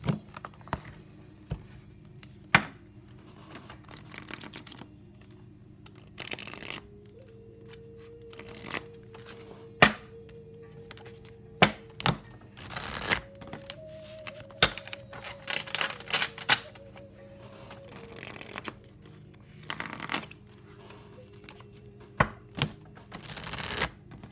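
A deck of tarot cards is shuffled by hand in a quiet room, giving irregular soft slaps, taps and riffles close by for over twenty seconds. A faint tonal hum sits underneath midway, and nobody speaks.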